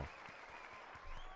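Recorded applause plays as a sound effect during a live stream: a dense burst of clapping from a crowd, steady and fairly faint, lasting only a moment.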